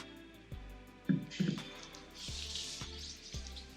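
Water drips from the soaked ends of tightly coiled, kinky hair being saturated for a wash and go, giving a few soft, close splashes and trickles over a quiet room.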